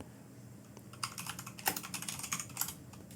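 Fast, light clicking of a computer keyboard as someone types a search, a close and steady run of keystrokes that starts after a brief quiet moment.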